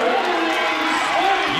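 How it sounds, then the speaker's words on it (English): A high school basketball crowd cheering in a gym, a steady roar of many voices that fills the whole moment. "You can hear this crowd."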